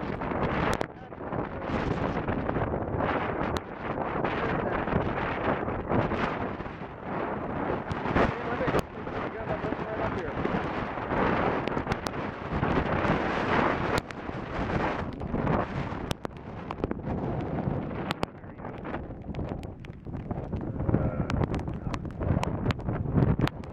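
Stormy wind from Tropical Storm Isaias over rough sea at a race boat, roaring as a steady, loud, buffeting rush against the microphone that fills the whole clip.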